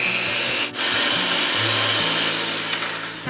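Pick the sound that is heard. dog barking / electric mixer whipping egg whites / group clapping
electric mixer whipping egg whites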